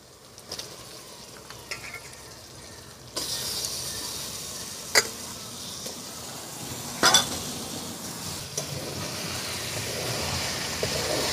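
Duck meat fries in a spice paste and is stirred through it, giving a steady loud sizzle once the meat goes in, with sharp clinks from the spoon scraping the pan.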